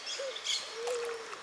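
Birds call faintly from a distance at a fishing pond, giving a few short whistled and hooting notes over quiet background noise.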